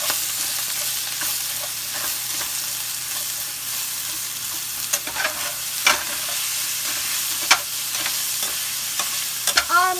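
Onions and pork stir-fry in oil in a pan, a loud continuous sizzle with occasional sharp scrapes and clinks of the utensil, no voices.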